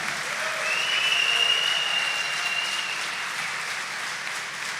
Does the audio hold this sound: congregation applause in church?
yes